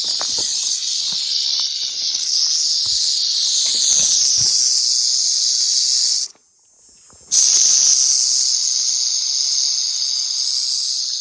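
A large snake hisses in a long, steady, breathy stream, loud and close, broken by a brief pause before the hiss resumes.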